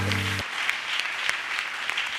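Dense, steady clapping from a church congregation at a Sunday service, loud and continuous, with a low tone cutting off right at the start.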